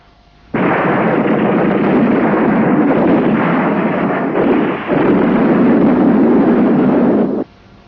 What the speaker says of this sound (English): the Biafrans reply detonating Obunigwe mines with devastating effect